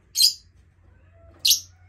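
A pet lovebird gives two short, bright chirps about a second apart, close by, with only a low faint hum between them.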